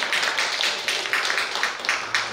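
An audience claps steadily for a couple of seconds at a community literary concert, a fairly close, even patter of many hands with no voices over it.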